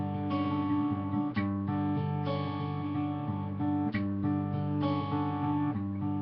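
Plucked guitar notes ring out in a repeating pattern, with clear attacks every second or so over sustained bass tones, played alone without any voices.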